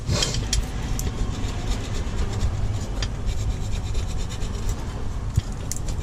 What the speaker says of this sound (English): we're going to go around and scrape off as much as we can with this